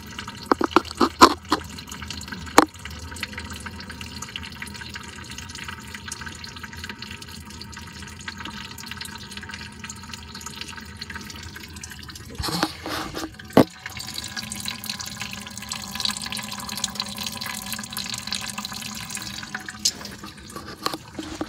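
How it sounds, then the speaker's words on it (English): Coolant draining out of a radiator on a 2003 Dodge Ram 1500 with a 5.7L Hemi, a steady trickling and dripping water stream that runs continuously, with a few sharper knocks and a louder burst of handling noise midway. "You actually just pull it out and just let it drain out."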